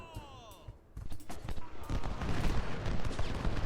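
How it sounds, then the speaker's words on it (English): Cannon and musket fire in the Civil War strategy video game Ultimate General: Civil War, a dense crackle of volleys and booms building into continuous battle noise. "Our cannons are going to target their cannons."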